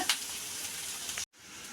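Onions sautéing in a pan with a steady close sizzle, briefly broken by a sharp stirring scrape at the start and a sudden short cut near the end.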